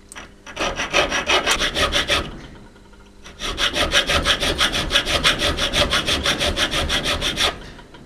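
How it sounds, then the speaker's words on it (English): A small hand file rasps across a 5 mm screw clamped in a vise, cutting notches in steady back-and-forth strokes, close and loud, in two bursts separated by a brief pause. "with a small file, I'm gonna make two small cuts that will give a cutting edge"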